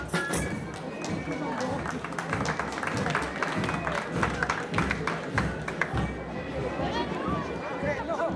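A dense crowd packs the village streets of Espelette for a procession after mass, giving steady, close murmur and chatter with scattered claps and footsteps throughout.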